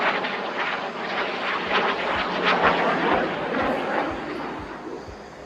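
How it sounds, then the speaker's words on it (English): A fighter aircraft accelerating to about 400 knots for snap rolls at the Aero India 2025 air show, a loud roaring jet engine with a rushing, pulsing quality, sustained and close, under faint crowd or commentary. "the aircraft accelerates to a speed of 400 knots to perform few snap rolls right in front of you"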